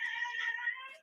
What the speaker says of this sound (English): my microphone is picking up the fact that my cat is meowing very, very loudly